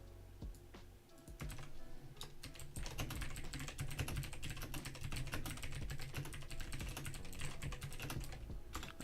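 Fingers type steadily on a computer keyboard, a long run of close, dense key clicks with no voices.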